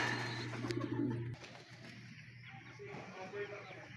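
Pigeon cooing, a low steady coo for the first second and a half, then faint scattered bird sounds under background noise; young pigeons are being watched for at a loft.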